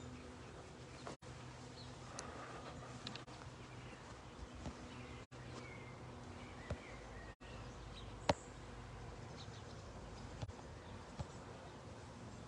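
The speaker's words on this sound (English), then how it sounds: "I hear the humming of the bees" Bees hum faintly and steadily up in trees in full bloom, a soft continuous drone with a few light insect buzzes and occasional small ticks, no voices present.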